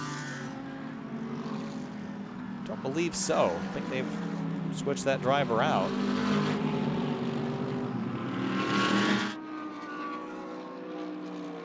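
A McLaren 720S GT3 race car sweeps past on the Indianapolis circuit during a GT World Challenge America race, its engine note rising and falling with gear changes beneath steady commentary chatter, then cutting off abruptly.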